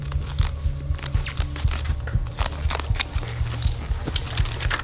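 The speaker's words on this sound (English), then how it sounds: "Mary, I'm gonna cut from the shirt." Scissors snipping through a shirt during a school AED and CPR drill, a rapid string of short crisp cuts and fabric rustles over a low steady hum, close by.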